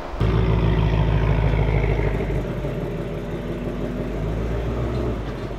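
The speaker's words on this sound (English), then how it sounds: "we've got our VMP/Whipple supercharged stage 2 on the dyno" A loud, steady supercharged engine on a dyno drones continuously at close range, a heavy mechanical roar with rattling texture and no pauses; a VMP/Whipple stage 2 supercharged Ford 3.0 L setup.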